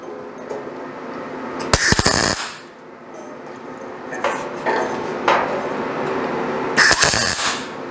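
Tack welding on a custom Ford F100 truck bed, with two short bursts of harsh crackling buzz separated by quieter clanks and handling noise nearby.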